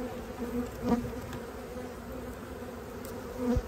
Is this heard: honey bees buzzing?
yes